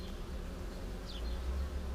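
Honeybees buzzing in an open hive with a low, continuous droning hum, steady and fairly quiet close by.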